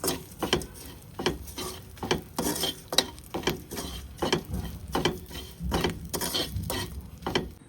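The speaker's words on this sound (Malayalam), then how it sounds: "ഇതിൻ്റെ പച്ച ചുവ മാറുന്നത് വരെ ഒന്ന് ഇളക്കി കൊടുക്കും" Spoon scraping and stirring chili powder and turmeric into a garlic pickle mixture in a pan, with soft sizzling under a steady run of close, rhythmic metallic scrapes and clinks, no voices.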